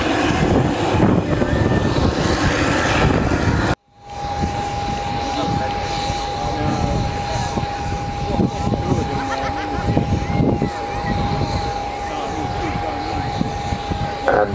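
Wing-walking display planes pass at Fairford airshow, a loud, steady propeller-engine roar that drops out briefly and returns, with a persistent tone running through it.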